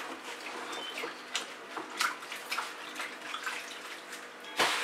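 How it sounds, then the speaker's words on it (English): Fingers are rinsed under running tap water during acrylic paint pouring, a faint, uneven splashing with small bursts of spatter close by. "I'm going to have to rinse my fingers for a second."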